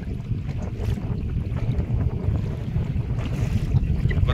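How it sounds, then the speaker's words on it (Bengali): Strong wind buffets a small fishing boat on a Sundarbans river during a spring tide, a loud, constant roaring rush with gusty low-end rumble. "প্রচন্ড হাওয়া হচ্ছে আজকে"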